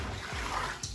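Hot water from a kitchen pot pours into a bathtub, giving a steady close splash and gurgle of water hitting water that runs for about a second, with a brighter splash toward the end.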